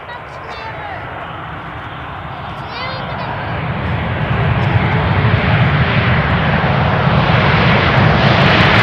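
An airliner lands on runway 18R at Amsterdam Schiphol Airport with a broad, steady engine roar that swells louder and closer over the final seconds.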